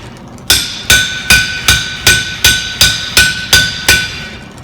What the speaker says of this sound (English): and then you're going to hammer it